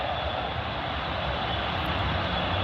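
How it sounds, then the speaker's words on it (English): Fixed-wing airplane taking off from Teterboro airport on a calm evening near the New York skyline, a steady, loud engine roar that holds evenly throughout with no talking. "Great time to watch planes land and take off."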